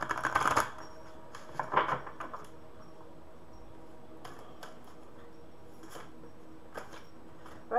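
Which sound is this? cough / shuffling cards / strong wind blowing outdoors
shuffling cards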